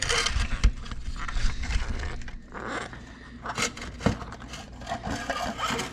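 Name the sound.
rubber boot pulled off a Kawasaki KLX300 headlight housing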